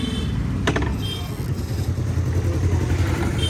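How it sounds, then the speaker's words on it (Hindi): A motorcycle ridden through Jhansi at sunset, its engine a steady low rumble that stays loud and close throughout, with rushing wind noise and a brief click early on. "अब हम बाइक लेके जा रहे हैं"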